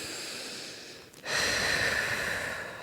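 A single deep, audible inhale during an overhead dumbbell lateral raise for the shoulders, drawn in as the weights come down: a brief quiet pause, then a loud, steady rush of breath close to the mic.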